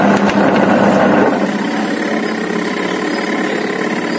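A Sanken 7 kg washing machine runs its spin dryer with a steady mechanical hum and vibration. A louder rumble in the first second and a half settles into an even, continuous whir, heard close with no talking.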